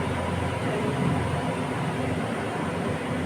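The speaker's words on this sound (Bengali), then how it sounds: "চিমনি চলছে তো" A kitchen chimney exhaust hood running loudly, a dense, steady roaring whoosh that holds constant with no breaks, close and filling the room.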